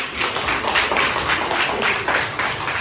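Children at a school clap together in quick, fairly even bursts, a close, continuous patter of hands with no voices over it.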